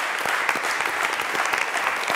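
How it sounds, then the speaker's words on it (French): Church congregation applauding, dense steady clapping sustained throughout, loud and close with a little crowd noise mixed in. "Est-ce qu'on peut acclamer Dieu pour ça?"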